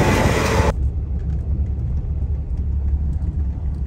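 A truck drives on a road, its engine a low, steady rumble heard from inside the cab after a brief burst of loud wind or handling noise at the start.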